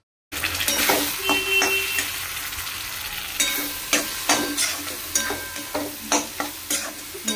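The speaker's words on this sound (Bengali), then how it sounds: "পেঁয়াজগুলো ভাজা হয়ে গেছে" Onions frying in a home cooking pan, a steady close sizzle with stirring scrapes and clacks of a utensil against the pan, no talk.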